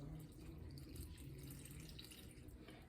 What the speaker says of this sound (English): So I'm going to go ahead and put the water in there.